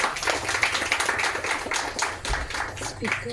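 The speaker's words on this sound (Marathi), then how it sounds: "या सगळ्यांसाठी आपण एकदा जोरदार टाळ्या वाजू" A crowd claps together in a dense, continuous round of applause at a community gathering, the claps rattling steadily and fairly loud throughout with no clear pauses.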